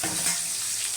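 Potatoes tipped into hot oil in a frying pan for a fish-head and potato curry, giving a loud, dense, continuous sizzle with no talk.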